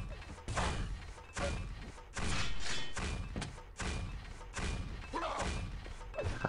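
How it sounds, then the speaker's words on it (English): Grenades explode repeatedly during a Quake match, a series of heavy thumping blasts a second or so apart, loud and close amid continuous game noise. "Ash just spamming the grenades here"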